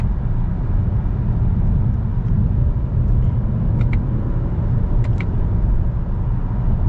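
A 2022 Toyota Camry Nightshade AWD with its 8-speed automatic cruises along, a steady low engine and road rumble droning throughout, with faint brief ticks as the transmission shifts smoothly.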